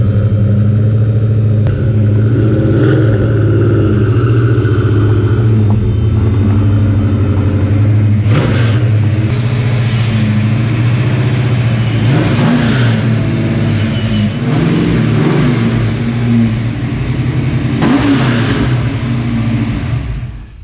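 Car with 3-inch Flowmaster exhaust mufflers revving up close, a loud deep rumbling idle broken by several sharp throttle blips that rise and fall, with no talking.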